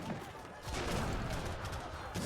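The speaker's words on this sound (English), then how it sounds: "The Imperial cannon's doing so much damage." Imperial cannon fire in a real-time strategy battle: faint, distant booming shots blend into a continuous clatter of gunfire and combat noise.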